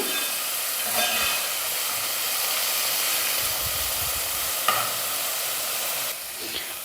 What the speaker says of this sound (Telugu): రొయ్యలు మనం ఎక్కువ ఫ్రై చేసుకోవాల్సిన అవసరం లేదు, కొంచెం ఆయిల్ అలా ఫ్రై అయితే సరిపోతుంది